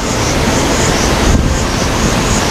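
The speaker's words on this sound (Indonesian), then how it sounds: "salah satu aliran air terjun yang ada di Desa Lantan" Steady, dense rush of a forest waterfall, a broad continuous roar with no breaks, fairly loud and close.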